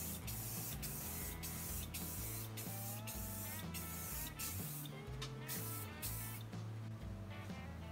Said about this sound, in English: I'll just give several coats of this Krylon clear.